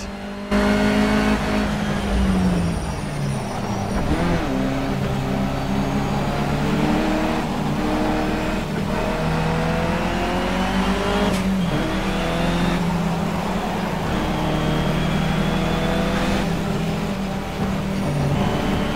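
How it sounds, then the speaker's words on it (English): A race car engine in Project Cars revs and whines continuously, pitch climbing and dropping through gear shifts, loud and close for the whole stretch. "We need it to be revving up all the time on the exit."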